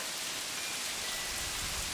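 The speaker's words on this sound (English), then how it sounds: "Tropical rain." Heavy tropical rain from a tropical storm falls steadily as an even, dense hiss of drops pattering on surfaces, with no other sounds.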